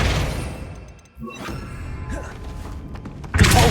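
Flipendo spell cast in the Hogwarts Legacy video game: a dull thump partway in, then shimmering magical whooshes and a loud burst of impact noise at the end, with no talking.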